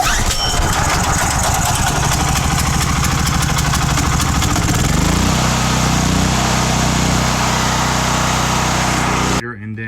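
A Predator 9000 gasoline generator engine fires up and runs steadily, a loud continuous mechanical drone with a pitch shift partway through as it settles, then cuts off abruptly at the end.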